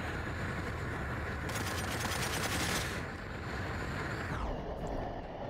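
Sustained heavy gunfire in the video game Cepheus Protocol, fired by an armored unit: a dense, steady roar of rapid shots with a buzzing stretch in the middle, then a descending whine at the end, loud and with no talk.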